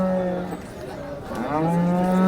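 HF dairy cow at Sangola cattle market in Maharashtra, lowing in two long, loud moos close by with a brief dip between them over a busy market background.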